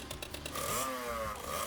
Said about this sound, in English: Leaving the sound of exhaust, Fujini disappears like a bullet